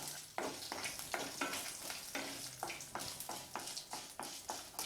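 Mustard seeds, urad dal and curry leaves frying in ghee for pepper rice, a close bright sizzle with rhythmic crackling pops and stirring scrapes throughout, no talk.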